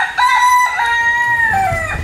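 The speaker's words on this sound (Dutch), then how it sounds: "Volgens mij hoor ik iets. Oh, dat zijn veel kippen." A crowd of chickens and roosters at a rural holiday house by an old watermill in Limburg crow and cluck loudly and close by, with overlapping drawn-out crows filling the whole moment.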